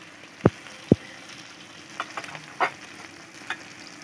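Garlic dropped into hot oil with green chillies, giving a low steady sizzle with two sharp knocks, then scattered soft crackles and spoon scrapes.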